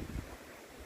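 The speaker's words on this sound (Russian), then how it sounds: "Ой, какой ветер у нас." Steady outdoor wind rushing and buffeting a microphone, a broad continuous roar with gusty low rumbles, no voices, in Germany.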